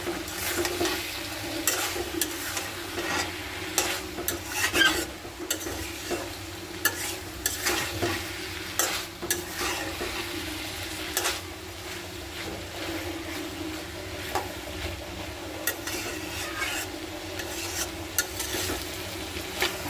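Vegetables fry with a steady close sizzle in a pan while being stirred, with repeated scraping knocks of the utensil throughout.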